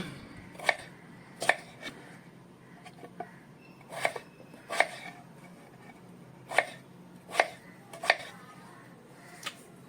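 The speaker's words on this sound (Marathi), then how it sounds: "हे असे बटाटे मी या ठिकाणी चिरून घेतोय" A knife chops potatoes on a board, giving about a dozen sharp, close knocks at an uneven, unhurried pace with quiet gaps between strikes.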